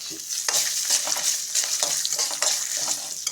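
Chana dal, cumin, hing, garlic and chillies fry in hot oil in a pan, giving a steady bright sizzle with light stirring scrapes, close and continuous without any talk.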